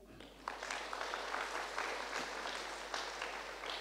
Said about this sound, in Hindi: अपने लिए तालियां।